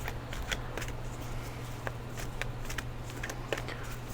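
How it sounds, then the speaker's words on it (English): A deck of tarot-style reading cards being shuffled by hand, a quiet run of soft riffling clicks and slaps repeating steadily at close range over a low background hum. "I'm just going to shuffle, and then I'll pull the energy around the reading"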